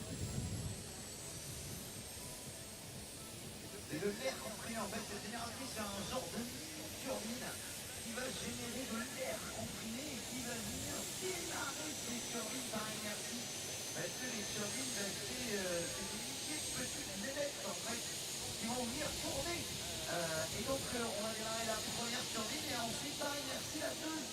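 Twin-turbine light modified pulling tractor at a tractor pulling event in Bernay, giving a loud, sustained jet-like turbine roar with hiss that runs the whole time, with a commentator talking over it.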